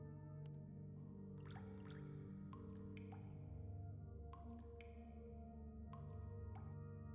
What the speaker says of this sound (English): notice things, like how the water drips from the roof